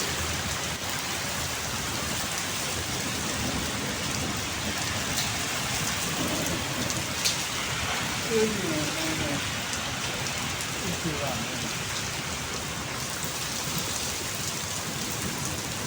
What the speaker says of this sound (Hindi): और देख सकते हो तूफ़ानी बारिश है।